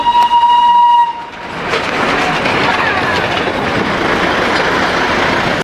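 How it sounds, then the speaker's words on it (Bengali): A Darjeeling toy train pulls in near Sittong, opening with a loud steady horn blast for about a second, then a broad rumbling roar of wheels and carriages that holds strong and close to the end. "তো তোমার টয় ট্রেন আসছে।"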